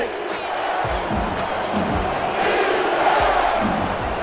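Stadium crowd at a night football game in Baltimore roaring as the home side faces third down, a loud sustained wash of voices and cheers with a few low thumps, close and continuous throughout.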